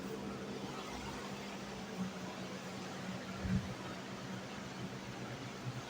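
Room air cooler running indoors, a steady broadband whoosh with a low hum, constant and fairly faint, no talk over it.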